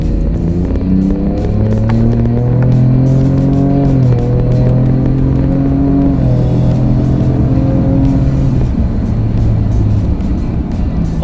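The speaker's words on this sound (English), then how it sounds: "I cannot get enough of this acceleration. This 3-liter twin turbo EcoBoost engine." A 2022 Ford Ranger Raptor's 3-liter twin-turbo EcoBoost engine pulls hard, its loud droning note climbing through gear changes from close inside the truck.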